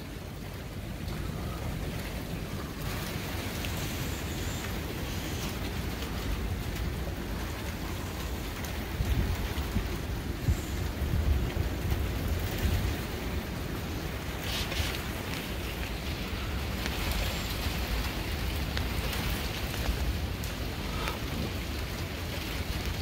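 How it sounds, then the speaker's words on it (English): Steady rain pours down during a severe storm, an even hiss of drops on surfaces with gusts of wind buffeting the microphone, continuous and moderately loud with no talking. "No, that's rain."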